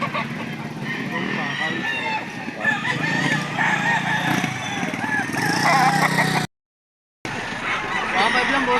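Gamecocks for sale at a fighting-rooster market in Lipa, Batangas, crowing and clucking loudly among a crowded mix of nearby birds, with men haggling over prices throughout and a brief dropout near the end.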